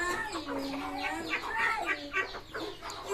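Chickens cluck and squawk on a small farm, several birds calling in overlapping, irregular bursts, close and fairly loud, with no talk.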